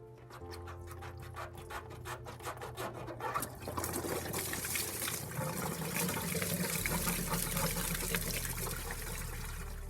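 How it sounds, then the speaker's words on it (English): Coolant mixed with radiator flush drains from the bottom radiator hose of an FJ45 Land Cruiser into a plastic tub, starting as quick irregular drips and settling into a steady close splashing, trickling stream. "pop that bottom radiator hose off, and then I'm going to try and drain as much of the fluid into that blue tub as I can"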